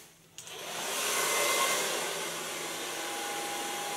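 A handheld blow dryer switches on and runs steadily as hair is dried with a large brush during a salon styling session, a loud, continuous airy whoosh close by with no talking.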